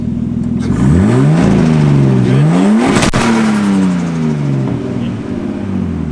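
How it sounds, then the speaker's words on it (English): Car engine revved hard while parked, a car being fitted with a roll cage: loud, close rising and falling revs, a sharp burst near the middle, then a falling wind-down. "Let me get a rev."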